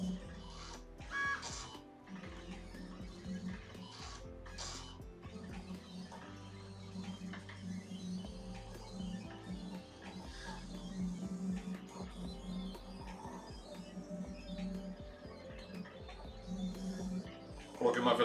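Silhouette Curio 2 cutting machine running a cut at low speed, a steady quiet whirring motor hum with soft ticking and shuffling of the moving carriage throughout.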